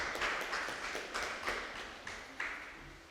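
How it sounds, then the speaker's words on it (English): An audience claps in applause at a youth club awards ceremony, a steady patter of many hands with a few sharper claps standing out, moderately loud and continuous throughout. "Can we have a round of applause for Joelle Williams?"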